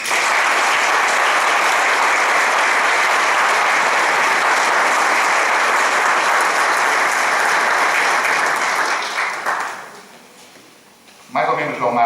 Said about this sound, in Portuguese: a eles todos eu pedia uma grande salva de palmas